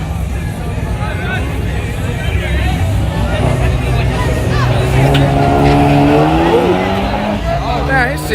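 A street race car launches at night with the clutch dropped too early, a loud engine roar with rising revs and tire noise while a crowd chatters and shouts close by.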